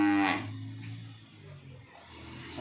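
A cow moos briefly at the start inside a cattle pen at a farmers' group barn, followed by quieter shuffling and faint barn noise.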